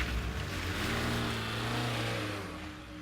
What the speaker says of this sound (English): started up his car, and sped off